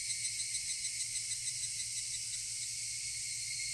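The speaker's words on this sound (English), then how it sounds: "Only the cry of the cicadas remained, annoyingly loud." Cicadas in the Higurashi visual novel give a loud, continuous high-pitched drone that holds steady and close without pause, with no voices over it.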